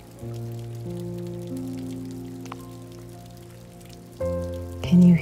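Rain falls on a surface with a soft, steady patter beneath sustained musical tones that shift pitch and swell louder near the end.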